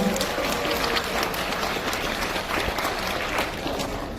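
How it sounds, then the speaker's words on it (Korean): An audience at the opening ceremony of a city mayor's cup community sports meet in Gwangju gives a round of applause, dense, steady clapping that stays loud and even for about four seconds. "박수 한번 주세요"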